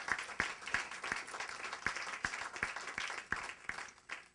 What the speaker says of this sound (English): see if we could give them another round of applause for their courage